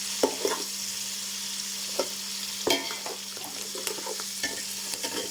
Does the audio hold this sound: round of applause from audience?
no